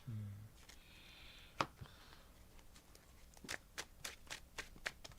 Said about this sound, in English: I'll shuffle it, give me a second